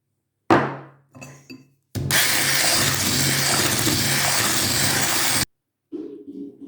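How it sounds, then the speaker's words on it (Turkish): Oil and milk being whisked into a cake batter of eggs beaten pale: a few clinks, then a continuous loud whirring mixer for about three and a half seconds, stopping abruptly. "Şimdilik de bir su bardağı sıvı yağ, bir su bardağı da sütü ekliyorum. Ve yine çırpıyorum."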